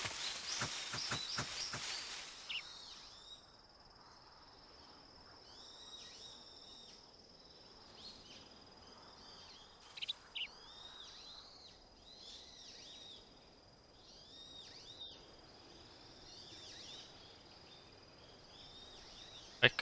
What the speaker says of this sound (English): I mean, I'm hearing birds the whole time